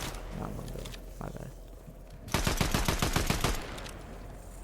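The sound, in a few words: shotgun gunfire in a video game (Fortnite)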